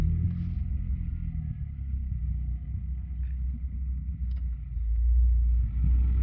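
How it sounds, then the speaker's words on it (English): A sports car engine fitted with a stock resonator runs with a sporty exhaust note. It is a steady, low, throaty rumble that swells slightly toward the end. "I guess you guys are able to hear kind of a sporty exhaust note."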